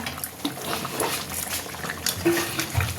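Chicken curry bubbles in a pot with soft, irregular blips and gurgles, a low continuous simmer close by, broken by a small clink or two and no talk.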